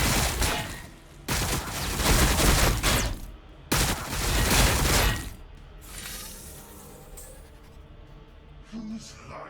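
Gunfire bursts in the Warhammer Battlesector strategy game, from a Necron Skorpekh Destroyer multiplayer battle, loud dense volleys in two long stretches that fade into quieter battlefield ambience with scattered softer shots.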